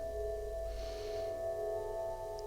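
A faint, steady electronic drone of layered sustained tones, a sonification of data extracted from a Victorian woman's skull, holds evenly throughout with a soft hiss briefly rising midway.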